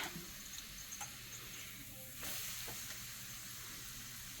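A keto tortilla shell fries in a pan with a steady, close sizzle and soft crackle that holds level throughout, briefly swelling louder partway through.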